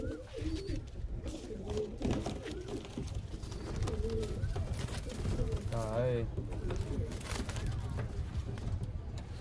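High-flying Andhra pigeons coo in a loft, with soft repeated cooing calls close by while someone talks over them and other birds rustle.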